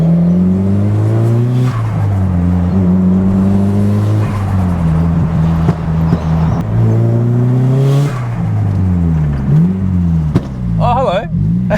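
A Nissan Silvia S15 cruising among JDM cars: its engine note climbs and drops repeatedly through gear changes, loud and close from inside the car, with a sharp burst near the end.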